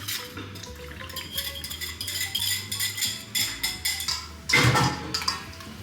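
Hot melted butter is poured into a mixing bowl and stirred in, with repeated clinks and scrapes of utensils against the bowl and a brief louder clatter near the end. The sounds are close, steady and busy, with no talking.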